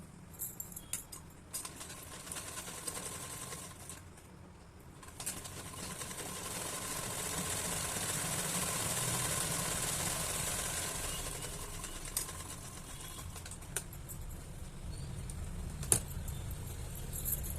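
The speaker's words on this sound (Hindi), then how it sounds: "दूसरे साइड भी इस तरह से सिल लेते हैं। दोनों को बराबर करके और सिलाई लगा।" A sewing machine runs in bursts, stitching the sleeve seam of a blouse, its motor whirring close and steady, pausing briefly between runs with small clicks.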